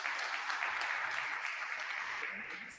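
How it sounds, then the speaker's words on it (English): A lecture audience applauds Professor Naumann, a steady wash of many hands clapping together, even and moderately distant, tapering slightly at the close. "A round of applause for Professor Naumann again."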